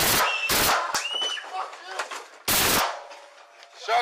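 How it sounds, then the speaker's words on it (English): Police fire gunshots at an armed domestic violence suspect in Richmond, heard as loud, sharp blasts at close range from a body camera. Two come in quick succession and another follows a couple of seconds later, with shouting voices between them. "Shots fired."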